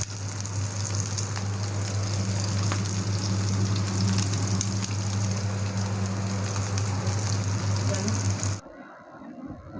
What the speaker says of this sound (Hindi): उनको हमने कर लेना है फ्राई।